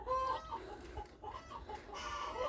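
Several chickens cluck in soft, repeated bursts nearby, with a higher squawk at the start and steady farmyard clucking throughout.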